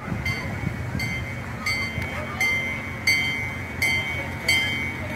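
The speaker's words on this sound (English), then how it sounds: "one of those, the trains you ride on. I don't know, for kids" A small ride-on train for kids rolls along on its track, with a low rumble under evenly spaced metallic clinks and rattles, while people chatter faintly nearby.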